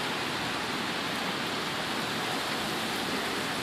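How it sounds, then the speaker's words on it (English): Heavy rain pours in a dense, constant hiss during a thunderstorm, steady and loud throughout with no thunder or voices standing out. "It is thunderstorming over here"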